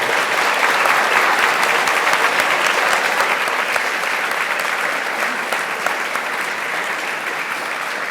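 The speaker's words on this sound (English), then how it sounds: "let's have a big round of applause," An audience gives a big, sustained round of applause after a talk about God of War characters, dense clapping that stays loud and even throughout with no speech over it.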